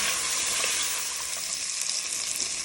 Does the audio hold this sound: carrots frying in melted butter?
yes